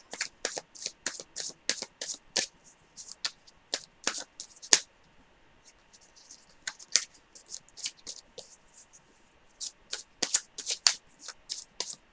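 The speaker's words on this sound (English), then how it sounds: "now I'm going to shuffle for your guys' advice card real quick" Bursts of tarot cards being shuffled, crisp riffling rattles in quick clusters with short pauses between, close and fairly quiet.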